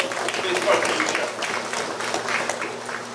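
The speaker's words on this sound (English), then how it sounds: "let us just give him another round of applause for his contribution" A breakfast forum crowd gives a round of applause, steady clapping that fills the room throughout while someone speaks over it.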